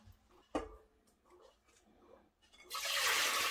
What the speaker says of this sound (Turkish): Limonatalarımı tekrar süzüyorum ki herhangi bir tortu kalmasın.